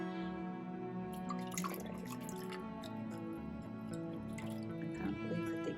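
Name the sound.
water poured into a betta fish tank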